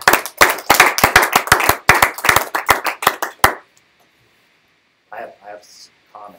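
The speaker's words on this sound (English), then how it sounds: "let's first clap" A small audience at university capstone project presentations claps in distinct, sharp hand strikes for about three seconds, then falls silent before a few voices begin speaking.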